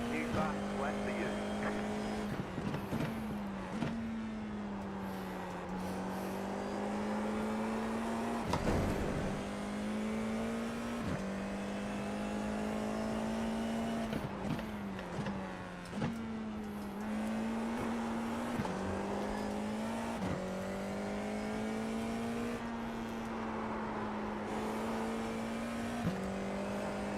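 A Formula 4 race car laps Tsukuba circuit, its engine rising through the gears in repeated whining climbs and dropping sharply on downshifts and braking, loud and close throughout, with a voice talking now and then.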